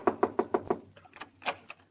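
Five quick, evenly spaced knocks on a wooden door as a radio comedy sound effect, close and crisp, followed by fainter scattered knocks and thuds.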